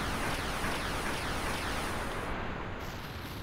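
Rockets launched from a helicopter in War Thunder, a dense roaring rush of firing noise that stays loud and continuous before briefly thinning near the end.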